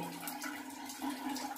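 Water running continuously as a full toilet cistern overflows through the handle opening, a steady close rushing and trickling with no speech.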